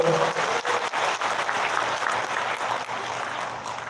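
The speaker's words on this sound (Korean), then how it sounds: "박수 한번 보내주세요." A crowd of elderly participants applauds at a senior employment program rally, steady and fairly loud clapping lasting throughout with no talk over it.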